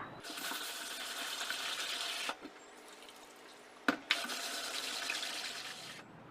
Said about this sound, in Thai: นำถั่วเขียวมาล้างให้สะอาดค่ะ